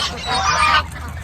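A white duck lets out a single loud, harsh honking quack close by that lasts under a second, then gives way to quiet background.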